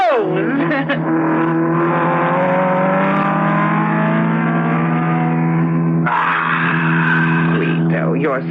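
Racing car overtaking another in a radio drama, a loud continuous engine whine with rising and falling pitch that swells sharply again as the second car passes, heard alone without talk.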